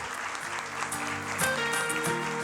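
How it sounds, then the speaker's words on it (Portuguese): Sustained audience clapping at a school year-opening event, continuous and fairly loud, with a sustained musical tone entering midway beneath the applause. "Pode aplaudir mesmo."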